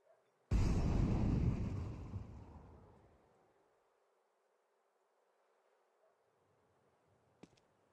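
An incendiary grenade thrown in CS2 bursts loudly, with a sudden roaring whoosh of flames that crackles and fades over a few seconds into quiet, followed by a faint click.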